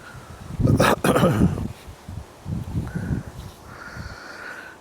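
During Storm Amy, gusts of wind buffet a microphone left without its wind muff beside a small hot tent: heavy, thumping low rumbles come in uneven bursts, with quieter flutters between.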